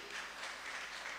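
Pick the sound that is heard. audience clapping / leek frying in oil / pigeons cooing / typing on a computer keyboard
audience clapping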